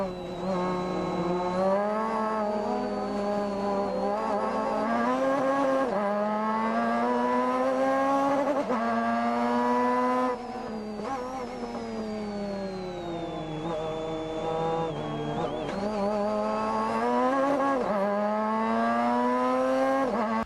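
Pro Mazda race car engine at racing speed during a 2006 race, a loud, continuous close onboard roar rising and falling in pitch through gear changes and corners for the whole stretch.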